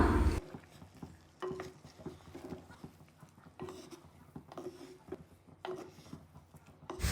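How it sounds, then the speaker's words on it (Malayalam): A ladle slowly stirs mango pulissery, a Kerala yogurt curry, in a pan, making soft, repeated scraping and sloshing strokes at close range with quiet gaps between them. "ഇനി നമുക്ക് ഇതിനെ തവി ഉപയോഗിച്ചിട്ട് പതുക്കെ ഒന്ന് ഇളക്കി കൊടുക്കാം"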